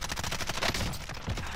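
MP5 submachine gun firing in the Warzone 2 video game, a rapid burst of automatic shots in quick rhythm, dense and fairly faint in the game mix.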